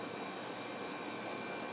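A household clothes dryer running steadily, a continuous even whir with broadband rushing noise at moderate level and no talking.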